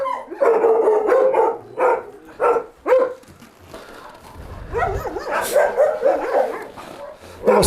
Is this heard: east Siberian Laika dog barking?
yes